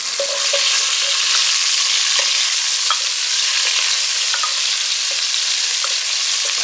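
Loud, continuous sizzling of onions and tomatoes sautéing in a hot pot, with occasional clinks and scrapes of stirring throughout.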